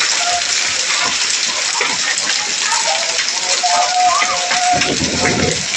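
Heavy rain and hail pour down in a loud, steady roar with a dense rattle of impacts, unbroken throughout, with faint voices beneath, in a Punjab village.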